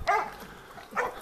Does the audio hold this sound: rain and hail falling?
no